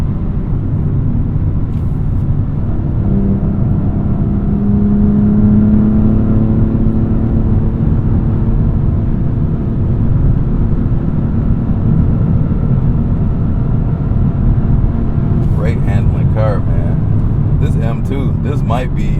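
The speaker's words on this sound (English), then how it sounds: "The engine, it sounds good, it sounds strong." BMW M2 engine and exhaust hum and drone under cabin noise while driving through city streets, rising in pitch through the middle, with someone talking over much of it.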